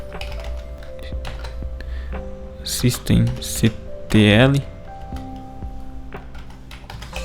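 Command being typed on a computer keyboard into a Linux server terminal: rapid, close key clicks run through the clip, partly under a speaking voice, with a few louder bursts near the middle.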